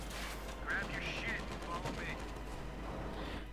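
Gunfire crackles in Company of Heroes 2, the flanking shots of a World War II match rattling in bursts beneath steady battlefield ambience, with a Sherman tank and pioneers in the fight.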